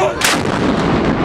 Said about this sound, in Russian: 24 апреля прозвучал полуденный выстрел с бастиона Нарышкина Петропавловской крепости